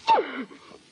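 One short, sharp sneeze in an old-time radio detective drama, close and loud, trailing off into a breathy exhale.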